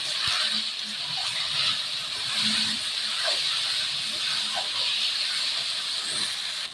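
Potatoes with salt and turmeric are stirred in a hot pan, making a continuous hissing sizzle with occasional soft scrapes, close by and without talk.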